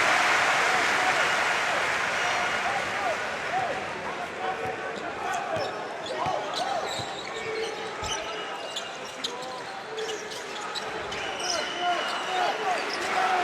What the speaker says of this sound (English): Crowd trying to get their team into this one.